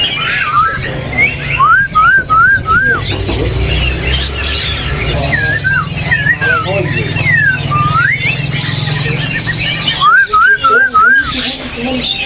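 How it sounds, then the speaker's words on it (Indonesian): A white-cheeked songbird (poho pipi putih) sings repeated bright rising whistled phrases, loud and close, answered by a person's teasing whistles, with people talking underneath throughout. "Salah satunya ada poho pipi putih nih, kita lagi pancing-pancing dan sudah kepantau untuk suaranya"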